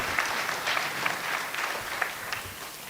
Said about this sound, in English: More hearty clap for Bishop and our presenter this morning.